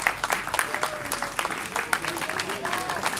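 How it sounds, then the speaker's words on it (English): A small audience claps for the host at a cricket academy, a short burst of brief, scattered applause with voices mixed in. "So please give a round of applause to our really awesome host today."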